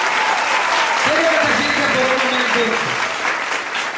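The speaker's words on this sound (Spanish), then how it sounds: "Dale un aplauso fuerte aquí, iglesia." A church congregation claps loudly and continuously while a preacher speaks over the applause, his voice carrying above the dense wash of hands.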